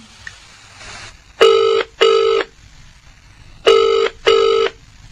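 Telephone ringing in two paired bursts, a bright electronic double ring heard twice with a silent gap between, loud and close with no talk over it.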